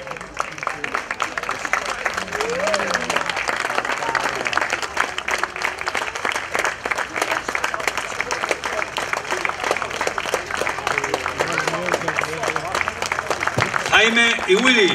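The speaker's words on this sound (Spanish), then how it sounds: "Jaime y Willy, un aplauso para ellos, por favor" Steady audience applause at an outdoor summer garden concert by a swing band, honoring the sound technicians; dense, even clapping throughout at moderate level, with a few scattered voices near the end.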